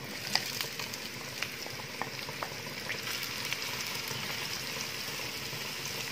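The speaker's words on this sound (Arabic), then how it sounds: "ودلوقتي هنحط الزيت ونبدأ نحط البصلة" Sliced onion frying in hot oil for Egyptian koshari, a steady even sizzle and crackle with small pops throughout, moderately quiet and close, with no talking.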